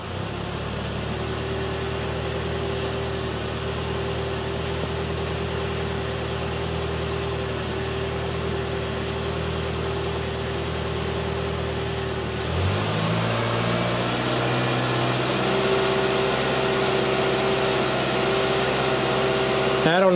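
Ford Escape engine with an idle issue revs up from a steady idle, the engine note shifting and rising partway through and holding at a higher pitch, loud and close.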